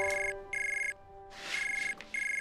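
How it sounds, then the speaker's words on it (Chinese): A phone rings with an incoming call, its electronic ringtone sounding in regular repeating bursts over a faint hum, moderately close, with no voices. "这个时候谁来电话？"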